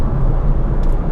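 A 2017/2018 Mazda 3 engine downshifting from 4th gear gives a steady, loud low rumble from inside the car, with road noise and no clear rev change.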